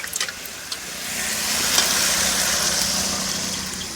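Water poured into spiced masala frying in a pan for egg curry bursts into a loud, close hiss and sizzle that swells and holds steady, with a few light utensil clinks at the start.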